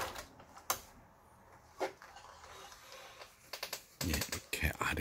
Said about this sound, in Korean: 이렇게 아래 위로 오버록 스티치까지 정상적으로 돼서 나오는 리카미싱